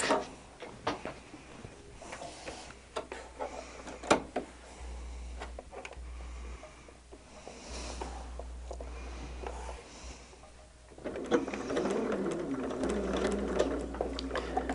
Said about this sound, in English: we're going to sew them together